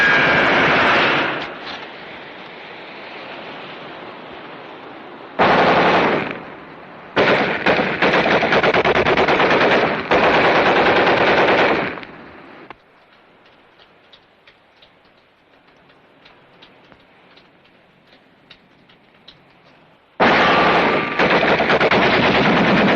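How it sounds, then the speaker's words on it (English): Sustained machine gun fire in a World War II film comes in long, loud, dense bursts with a couple of short gaps, then a quieter lull of scattered distant shots before another heavy burst resumes. "Keep firing."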